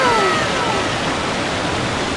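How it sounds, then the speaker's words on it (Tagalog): Strong, fast-flowing stream in a shaded natural spot under mango trees, rushing as a loud, steady broadband wash close by, with no voices. "bukod sa malakas yung agos ng tubig, malilim siya"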